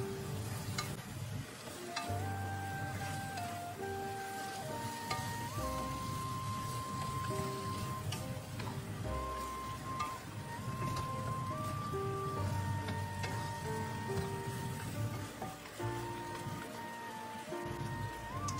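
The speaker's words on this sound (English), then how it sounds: "Add in your green onions, leaving some green onions for garnishing. Then stir fry for 2 minutes." Green onions being stir fried in a pan, a steady close sizzle with soft scraping and stirring noises, under background tones that come and go and no talk.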